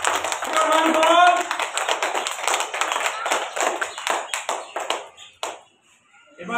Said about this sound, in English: Clap your hands all.